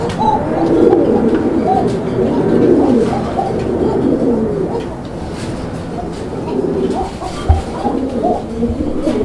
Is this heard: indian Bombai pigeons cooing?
yes